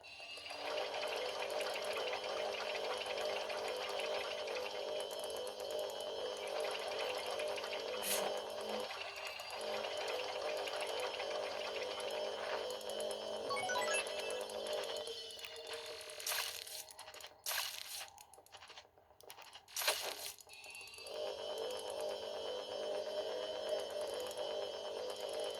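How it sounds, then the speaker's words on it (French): Luigi's vacuum suction in the video game Luigi's Mansion 2 HD, heard as a steady whirring hum that runs for a long stretch, then breaks up near the end with brief gaps and bursts, with no talk. "Et je fais que d'aspirer, c'est un peu chiant"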